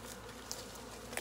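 A honeybee swarm hums near a hive, a steady, soft buzzing drone that carries through the whole short moment, with a couple of brief louder bees passing close.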